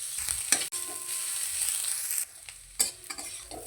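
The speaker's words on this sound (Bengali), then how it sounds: "পেঁয়াজটা একটু হালকা লালচে করে ভেজে নিতে হবে।" Onions fry in a hot pan with a steady, bright sizzle, broken by a few scraping stirs, heard up close with no one speaking.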